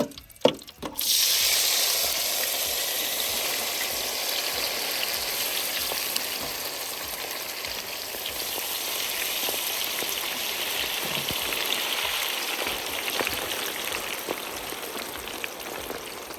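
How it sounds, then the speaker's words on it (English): Potatoes fry in a hot deep fryer with a dense, steady sizzle and crackle that runs throughout, louder and sharper in the first moment. "We are putting these potatoes now in deep fryer. We're frying them hot, high and hot."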